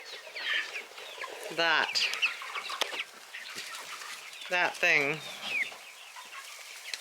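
Chickens cluck and squawk outdoors, with two sharp, louder calls standing out over scattered softer clucking and background noise, while a person briefly speaks.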